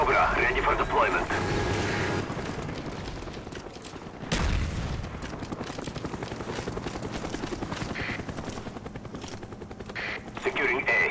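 A Cobra attack helicopter in a video game makes a steady rotor drone under bursts of gunfire and explosions, with voices speaking over the battle noise.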